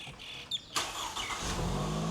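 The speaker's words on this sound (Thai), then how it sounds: "เดี๋ยวผมให้ฟังเสียงเครื่องนะครับ เครื่องแห้งสนิทเลยนะ" Toyota Camry 2.0 Extremo from 2014, a used car with a clean, dry engine, cranks and catches with a sharp burst, then settles into a steady, close idle hum that fills the rest of the moment alone.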